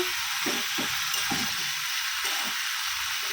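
Rice fries in a hot pan with ginger, garlic and onion, giving a steady close sizzle. Soft scraping stirs sound at irregular intervals throughout.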